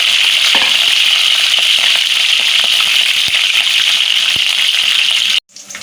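Garlic sizzles and crackles in hot oil in a pan, a dense, steady frying hiss with scattered pops, loud and close throughout, cutting off abruptly near the end.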